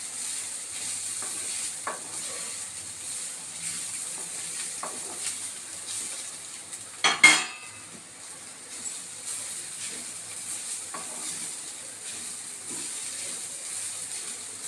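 Carrot frying in a pan with chili powder, stirred steadily: a continuous close sizzle with soft scraping strokes and one louder clatter midway.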